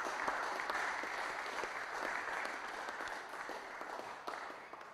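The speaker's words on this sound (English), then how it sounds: "can we get a little round of applause for the Year 12s" Audience applause for Year 12 students at a school football presentation evening, steady clapping from a crowd sustained for several seconds at moderate, distant-sounding level.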